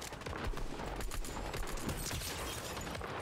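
Rapid bursts of gunfire in a Fortnite match, a dense chattering fusillade of shots filling the whole stretch at steady loudness with no talking.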